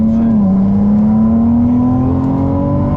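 Ferrari 296 GTB hybrid engine, turbocharged with electric motor assist, revving under throttle from inside the car, a loud steady drone with the pitch dipping then climbing smoothly.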